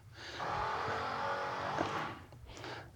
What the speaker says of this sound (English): There's construction on the property right now